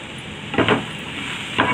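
Onions and salt frying in a pan while being stirred, two short scraping strokes of a spoon over a soft, steady background sizzle, close and fairly loud, with no talk.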